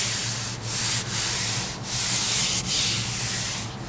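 A fiberglass canopy skirt layup for an RV-7A aircraft is sanded by hand in steady back-and-forth strokes, a close, continuous raspy rubbing with a short break between passes and no voices.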